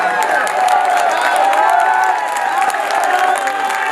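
Audience at a poetry recital in Dubai claps and cheers steadily throughout, a dense, loud wash of applause with scattered whoops and shouts.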